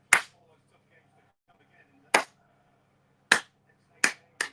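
Five sharp, loud hand claps ring out singly with long uneven gaps, the last two coming closer together, over a faint murmur of background voices.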